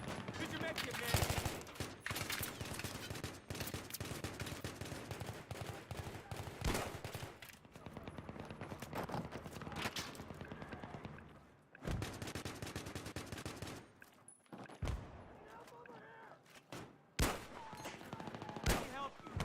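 Battlefield 3 combat on PS3 with sustained machine gun bursts and scattered gunshots, dense rapid rattling fire broken by short gaps, loud and close, with voices speaking intermittently underneath.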